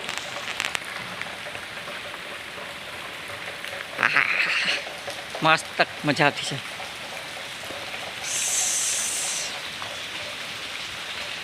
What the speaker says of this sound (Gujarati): બહુ સ્લો છે વરસાદ ત્યાં